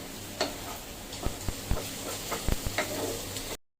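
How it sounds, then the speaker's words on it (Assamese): Chicken pieces fry in a pan for a few seconds, a soft steady sizzle broken by several sharp clinks and scrapes of a utensil stirring against the pan, with no talking. "তাৰপাছত মই এনেকৈ চিকেন কেপিচ অকণমান ভাজি ল'লোঁ।"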